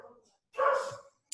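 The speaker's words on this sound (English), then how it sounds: "Your dog's answering that one." A dog barks once, close and fairly loud, in a short burst amid quiet speech during an online webinar, with a faint click just after.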